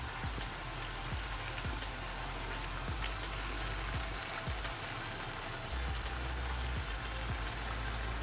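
Somas, sweet dumplings, fry in hot oil with a steady faint crackling sizzle, rain-like and continuous, with small pops scattered throughout.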